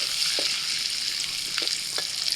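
Whole cumin seeds spit and crackle in hot white oil and a spoonful of butter, making a dense, even sizzle with a few faint spoon taps. Close and steady, with no voices.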